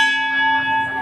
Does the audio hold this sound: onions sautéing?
no